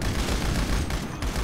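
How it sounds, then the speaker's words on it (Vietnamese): Machine gun fire in a GTA 5 zombie mod, a dense continuous roar of rapid gunshots with heavy low boom, loud and unbroken throughout the short burst. "Đây là cây súng súng máy nè anh em."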